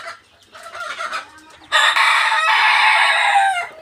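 Sonali and tiger breed chickens, close and loud, with short clucks followed by a long, drawn-out crow-like call that holds for nearly two seconds.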